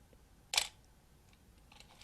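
A film camera gives a single crisp shutter-release click, then a faint mechanical tick and a second click near the end, sharp and close in a quiet room.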